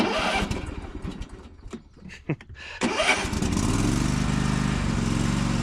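Several cranking and sputtering attempts, then a riding lawn mower engine catches and settles into a steady, loud idle close by.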